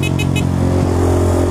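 City road traffic heard from a motorcycle riding between lanes: a steady loud engine drone with passing cars and bikes around it and a few short high squeaks early on, no talking.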